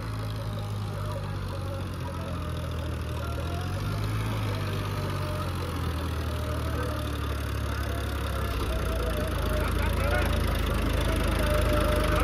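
A tractor engine running in a farm field while the tractor is stuck, giving a steady low idling rumble with a knocking chug that persists throughout and grows slightly louder near the end.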